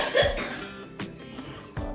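A child coughs three times in short, separate bursts, close to the microphone, with faint background noise between the coughs.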